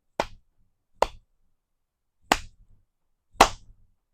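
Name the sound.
hand clapping imitated, dads competing for the last clap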